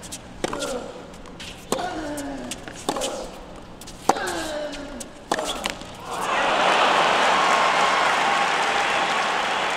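Crowd at the US Open 2017 semifinal erupting into loud, sustained applause and cheering after a Del Potro forehand, following a string of sharp racket strikes from the rally.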